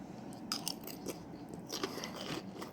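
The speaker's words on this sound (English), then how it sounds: "Let's hear that crunch." Crispy roast pork belly, lechon kawali, crackles under close bites and chewing, several sharp brittle crunches in quick succession at a quiet level.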